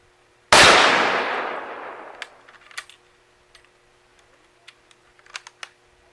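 An 8mm Mauser rifle fires a single shot with a Speer 150 grain hand load using Reloader 15, one very loud sharp crack with a long decaying echo, followed by faint clicks and handling sounds.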